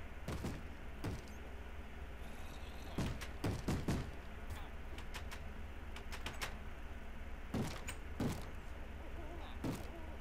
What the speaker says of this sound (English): Who's banging on what door?